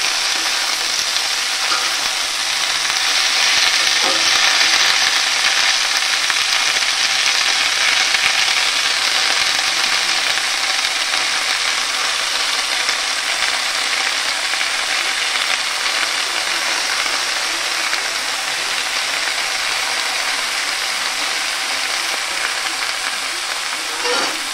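Mustard greens hiss and crackle steadily as they are stir-fried in a hot pan, a continuous loud close sizzle with faint scraping of stirring throughout.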